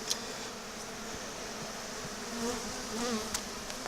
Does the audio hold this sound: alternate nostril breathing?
no